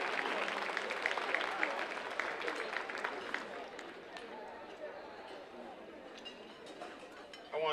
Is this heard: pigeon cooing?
no